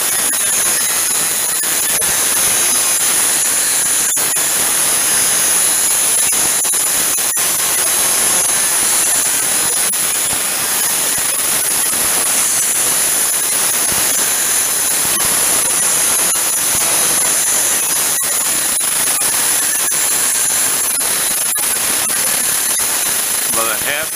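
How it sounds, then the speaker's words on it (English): An angle grinder cuts through cable in a workshop, a loud continuous high-pitched whine and hiss running steadily throughout with only slight fluctuations. "Can you hear me over the grinder?"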